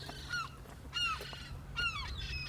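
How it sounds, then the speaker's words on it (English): Gulls screaming on the seafront at Bognor, several loud yelping calls repeating in bursts, fairly close, over a low steady background hum. "Away from the seagulls."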